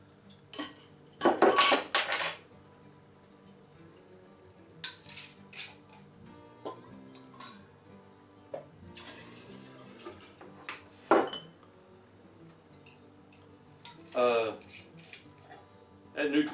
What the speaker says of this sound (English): So let's get them put into our jars here.